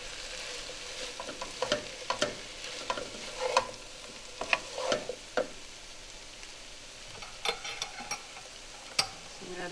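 Cauliflower and potato pieces for aloo gobi cook in a pan with a soft, quiet sizzle, punctuated by intermittent clicks and scrapes of a spoon stirring against the pan.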